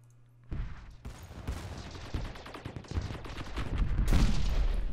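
Starbase weapons firing in the space strategy game StarDrive 2, a dense, continuous barrage of rapid shots and booms that builds louder toward the end, with no talking.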